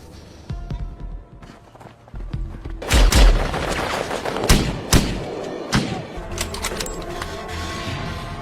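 Gunfire in an Indonesian action film shootout during an ambush, heard as several loud, sharp cracks and thuds scattered across the scene over low rumbling background sound.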